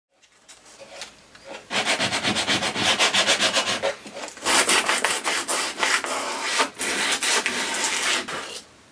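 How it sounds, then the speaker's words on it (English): A curved-front wooden box being sanded by hand with sandpaper, rough rhythmic rubbing strokes close up, starting softly and then continuing steadily with brief pauses. "I then finish off by working up through grades of sandpaper."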